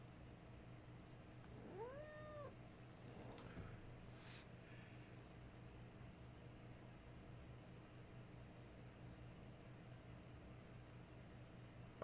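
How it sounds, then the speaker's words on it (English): A pet cat gives a couple of clear, rising-and-falling meows close by, early on, over a steady low hum and hiss in a quiet room; the rest stays calm with only background noise. "You, Kitty, how long are we going to be together?"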